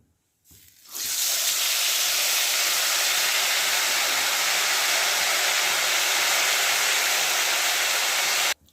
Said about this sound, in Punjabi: ਹੱਥ ਦੇ ਨਾਲ ਹੀ ਆਲੂਆਂ ਨੂੰ ਤੇਲ ਦੇ ਵਿੱਚ ਪਾ ਦੇਵਾਂਗੇ